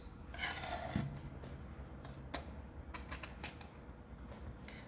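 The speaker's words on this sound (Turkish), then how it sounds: "Üçe bölüyoruz patlıcanımızı. 3 eşit parçaya." A knife slices through an eggplant on a cutting board, cutting it into three equal pieces. The cuts come as a few sharp, close taps and scrapes over a quiet kitchen background.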